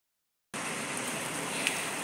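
Steady, even hiss of rain falling, starting abruptly after half a second of silence and continuing at a moderate level, with one faint tap near the end.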